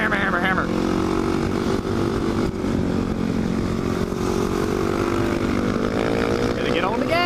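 A dirt bike engine on a first lap of a ride, revving and accelerating steadily and loudly for several seconds, with its pitch climbing toward the end, under occasional shouting.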